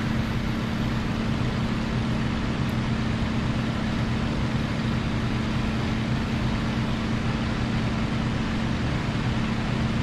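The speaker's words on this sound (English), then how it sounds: "I'm gonna force the supercharger." A P-51D Mustang piston engine in a WW2 flight game, running with its supercharger forced: a steady, dense, droning roar with a constant low hum, loud and unbroken throughout with no voices.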